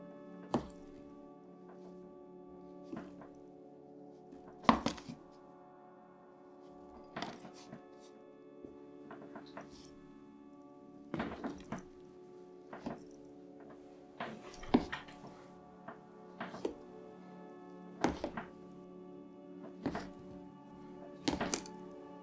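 Coconut fiber substrate scooped into a tarantula enclosure: repeated soft thunks and crumbly thuds at irregular intervals, close and fairly quiet, over a low steady background hum.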